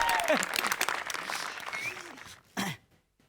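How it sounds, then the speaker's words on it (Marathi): A crowd at a village gathering claps in scattered bursts while voices murmur, and a throat is cleared near the end before it falls quiet. "जोरदार टाळ्यांनी त्यांचं स्वागत करायचं आहे जोरदार टाळ्या जाऊ द्या"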